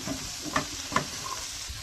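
Okra and potato curry stirred once in a pan, a brief soft sizzle with a few distinct scrapes and taps of the spoon close by.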